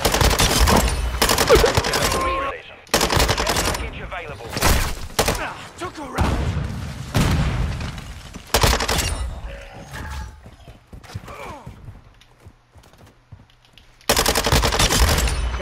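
Gunfire from Call of Duty Modern Warfare II: loud bursts of automatic fire alternate with short pauses, with game effects and clatter in between and a final heavy burst at the end.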